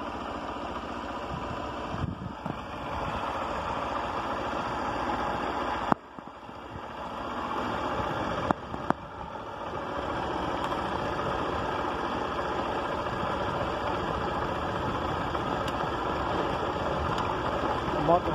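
A motorcycle engine drones steadily close up while riding downhill on the Serra do Olho d'Água mountain road in São José do Belmonte, with a brief drop in the noise partway through before the engine sound returns and holds.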